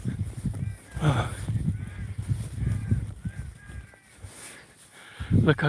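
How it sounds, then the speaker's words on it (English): Crow-like caws sound repeatedly out in the wilderness, several harsh calls spaced across a few seconds, moderately close, with some background rustle. "There have been several birds flying around"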